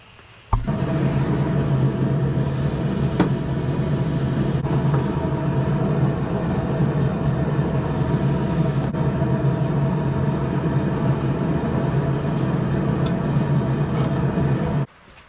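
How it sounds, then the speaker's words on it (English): A forge burning used motor oil roars steadily while heating a Damascus blade, a loud, continuous rumbling blast with faint ticks and no talking. "we're gonna get the forge lit, get this heated up"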